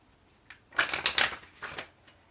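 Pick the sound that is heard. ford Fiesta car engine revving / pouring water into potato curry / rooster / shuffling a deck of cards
shuffling a deck of cards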